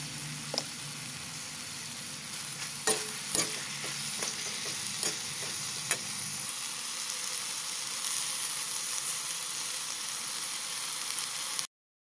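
String beans with tofu and pork sizzle steadily in a pan, with several sharp clacks of a spatula scraping and stirring through the food; the frying hiss runs close and continuous throughout.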